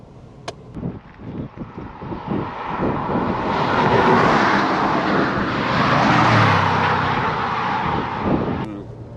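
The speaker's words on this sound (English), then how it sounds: "The engine's just so flexible. That flat 6 gives you linear power." A Porsche Boxster 986 flat-six drives along with a steady engine hum that swells and eases under the cabin, with the odd faint voice and a short talky opening.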